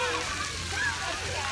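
Water splashes and sprays at a splash park in Watsessing Park, Essex County, heard as a continuous loud hiss and patter of falling water.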